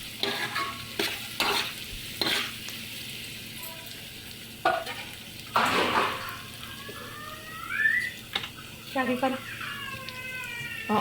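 Green chillies frying in hot oil for a chicken curry, a soft steady sizzle broken by repeated scraping stirs and clatters, with a voice talking over parts of it.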